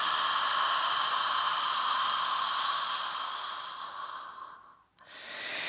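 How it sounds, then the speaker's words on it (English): A long, steady breathy exhale through the mouth during a yoga breathing exercise, close and soft. It fades gradually, then a brief silence and the start of the next breath. "So you exhale through your mouth."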